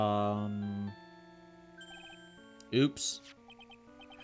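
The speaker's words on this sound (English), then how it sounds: "Oh, it's his theme, but like as a ringtone." A character's theme from Phoenix Wright: Ace Attorney playing as a phone ringtone, a bright electronic melody of short repeated tones following a loud game music passage, with a voice speaking briefly over it.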